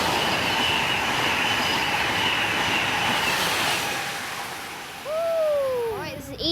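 A passenger train roars loudly past Croydon train station on a rainy evening. The steady rumble eases near the end, then sliding, tonal wheel squeals rise briefly.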